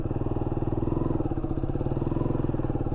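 A motorcycle rides along Ruta 40 in Catamarca, Argentina, on a cool morning. Its mid-pitched engine drones close and steady with a continuous throbbing pulse, and no voices are heard.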